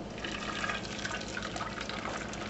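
Sugar syrup made with water being poured over cashews and cardamom in a pan on low heat, a steady liquid trickle and splash close by without talk.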